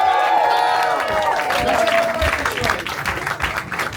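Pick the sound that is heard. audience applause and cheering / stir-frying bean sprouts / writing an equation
audience applause and cheering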